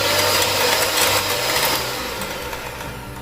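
Eggs are beaten into melted sugar for jalapeño cheese cornbread muffin batter, most likely with an electric mixer, which gives a steady close whirring drone that eases slightly toward the end.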